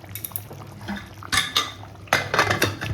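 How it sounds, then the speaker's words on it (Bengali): A spoon scrapes and clanks against a pot of chicken pulao, several bursts of metallic stirring knocks with quieter gaps between, close by and with no talking. "এটাকে আমি একটু নেড়ে দিলাম"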